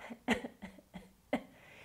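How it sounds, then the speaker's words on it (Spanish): Several soft, short coughs come in a loose sequence, deliberately gentle, quiet and close, with light breathing between them. "ay no, tose más suave, estamos en la biblioteca"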